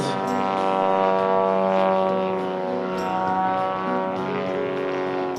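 An RC model Extra 300 aerobatic airplane at an air show in Radom throttles up. Its engine gives a loud, steady buzzing drone that swells early on and then holds, heard alone.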